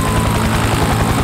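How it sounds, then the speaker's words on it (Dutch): A cartoon helicopter flies overhead in a SpongeBob SquarePants scene: a loud, continuous rotor thrum with a fast pulsing chop filling the short stretch, no voices. "ik hoor je niet door die helikopter"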